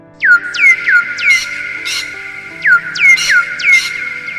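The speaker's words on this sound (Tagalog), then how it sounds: "ang tanging sumagot sa akin ay ang ingay lamang ng mga ibon" Bird calls used as a radio-drama sound effect: a series of sharp, downward-swooping whistled squawks in two clustered bursts, loud and close over a faint background hum.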